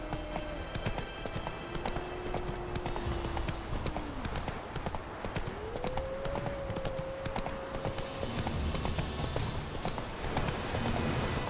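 Hooves of a galloping horse in The Witcher 3 video game clatter in a fast, steady rhythm, with game music tones drifting over the top and no talking.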